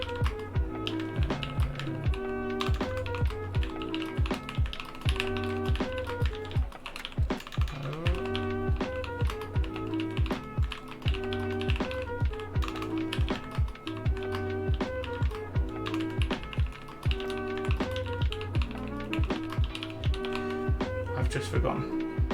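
Typing test on a KBD75 mechanical keyboard fitted with NovelKey Cream switches, a steady stream of close, rapid keystroke clacks throughout, with people talking over it at times.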